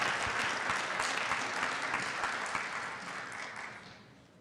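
A city council meeting audience applauds an honored wastewater superintendent, a dense, even wash of many hands clapping at moderate distance that gradually fades toward the end.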